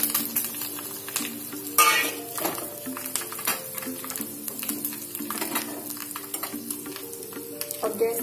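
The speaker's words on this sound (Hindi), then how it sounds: "और तेल जैसे गर्म हो जाए मैं इसमें डाल रही हूँ सरसों और जीरा" Mustard seeds, cumin, red chillies and curry leaves sizzle and crackle in hot oil in a home kitchen pan, a steady fry with spatter pops and occasional stirring clinks throughout.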